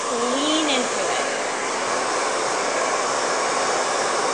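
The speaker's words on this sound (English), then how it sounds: "The easiest way to do this is to keep the blow dryer on the hand of the side you're working on and just lean into it." A blow dryer roars steadily and close throughout while styling a short cropped haircut, its broadband whoosh constant from start to finish, with brief faint vocal sounds over it early on.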